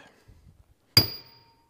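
A single sharp metallic clang from a three-pound hammer striking during air brake work on Dexter 15k trailer axles, ringing briefly before fading into silence after faint soft knocks.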